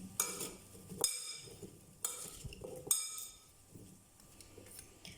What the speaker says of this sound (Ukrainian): і все перемішуємо